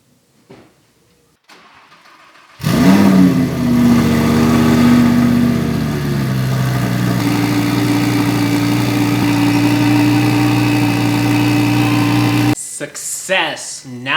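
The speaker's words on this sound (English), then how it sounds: "I'm gonna start up the car, make sure it runs good before I start putting everything back together" A car engine cranks and catches just after an O2 sensor repair in a garage, then settles into a loud, steady idle that continues for about ten seconds before a brief sound at the end.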